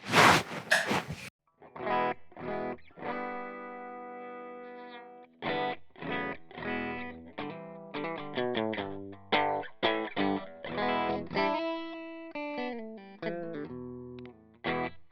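Electric guitar through a Fender Hot Rod Deluxe and a Blackstar amp with a pedal board rings out in distorted, effects-laden notes and chords, loud and close, after a brief burst of noise at the start.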